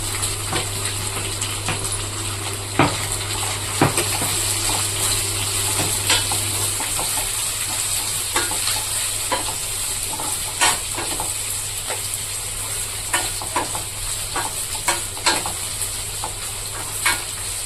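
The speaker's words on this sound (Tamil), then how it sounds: "நல்லா வெங்காயம் செவுக்க வதங்கணும்" Sliced onions sizzle in hot oil in a pan for a spicy Tamil fish curry, with a steady close frying hiss and frequent scraping clicks of a spoon stirring them.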